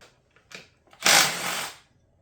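A power tool with a 10mm socket spins out a bolt on a 4L60E transmission, a few short ticks followed by one loud, close burst of whirring lasting under a second.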